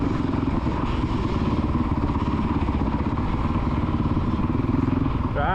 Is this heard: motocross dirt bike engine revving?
yes